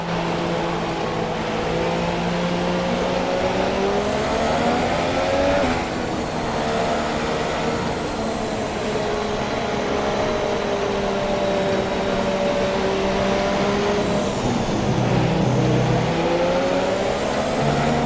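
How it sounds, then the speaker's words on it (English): Race cars in the F1 2017 video game accelerate as the field pulls away behind the safety car at Austria, with a continuous loud engine drone rising and falling in pitch through gear changes. "When the field accelerates, remember, there is no overtaking until the green flags."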